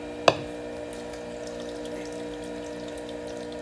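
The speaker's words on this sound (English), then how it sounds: "I'm gonna take the wet pulp and I'm gonna pour it into my giant" Wet juice pulp is poured into a giant strainer: one sharp knock, then a steady, soft wet rush of liquid draining through the mesh.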